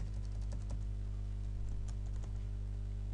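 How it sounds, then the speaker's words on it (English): Quiet typing on a computer keyboard while Java code is entered, with scattered clicking keystrokes over a steady low hum and no talk. "So let's see if I type it out again."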